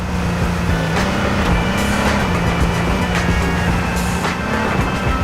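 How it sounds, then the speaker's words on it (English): Loud engine drone of the player's own car while driving in the video game H1Z1, a steady low hum with small pitch shifts as it speeds up and eases off, plus a few faint knocks over the top. "when you're driving your own car, it's so fucking loud"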